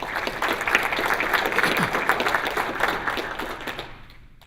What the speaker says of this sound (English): Let's give a round of applause to these guys.